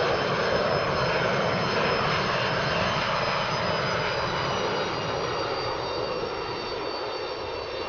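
A McDonnell Douglas DC-9-32 applying reverse thrust in a flight simulator game, heard from outside. A steady, loud, broadband jet roar holds throughout and eases slightly toward the end, with no talking.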